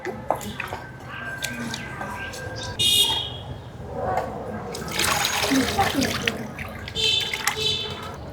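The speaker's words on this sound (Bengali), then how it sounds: "মাছ লবণ দিয়ে ধুয়ে নিচ্ছি।" Fish being washed with salt in water in a village kitchen, ahead of a bata fish curry: splashing, dripping and rubbing come in irregular bursts, close and moderately loud, with a voice heard at times.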